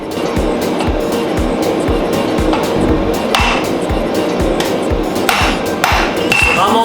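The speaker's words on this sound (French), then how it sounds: "il faut vraiment que j'arrive précisément avec mon coup de marteau" Repeated hammer blows on hot steel while forging a bottle opener, struck at a steady measured rhythm, loud and close, with ringing metallic hits over a continuous background rumble.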